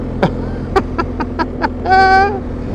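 A tractor engine drives along carrying a single hay bale, a steady low drone running throughout, with brief clicking noises and a short vocal sound over it.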